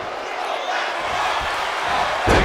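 A steady arena crowd roar at a WWE 2K25 wrestling match, broad and sustained, with a commentator talking over it and a brief louder swell near the end.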